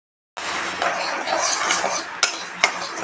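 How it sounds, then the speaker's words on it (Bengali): Mung dal dry-roasting in a hot kadai, with steady scraping and rattling of the spatula against the metal pan, punctuated by a couple of sharper clinks. "মুগ ডালটা আমি একটু শুকনো খোলায় ভালো করে ভেজে নেব"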